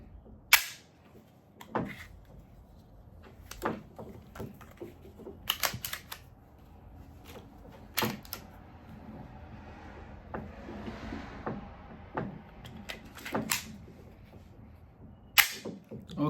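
A Glock 44 .22LR pistol with malfunctioning rounds fires sharp single cracks at uneven intervals until the magazine runs empty, mixed with metallic handling clicks between shots.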